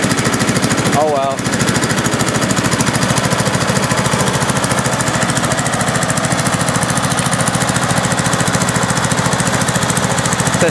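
A John Deere lawn tractor runs steadily with its drive belts spinning, a loud, constant mechanical drone with rapid engine knocking throughout and a brief higher whine near the start.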